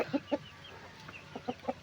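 Several short, throaty clucks from a crossbreed hen in loose bursts, close by and moderately loud, with quieter gaps between them.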